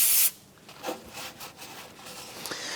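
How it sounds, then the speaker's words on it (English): Scrubbing inside the rear axle tube of a 1994-2004 Chevrolet S10 during a rear wheel bearing replacement: a short loud scrape opens, then quieter intermittent rubbing strokes follow close up. "go ahead and clean up the inside of your axle tube"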